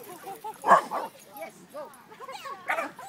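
Dogs at a Boston Terrier meetup yip and bark in quick bursts, close by, with a few whimpers between the calls.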